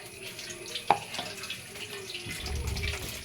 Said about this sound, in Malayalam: ഈ വെള്ളം കൂടെ ഒഴിക്കുവാണേ ഇച്ചിരി കൂടെ ഒഴിക്കുക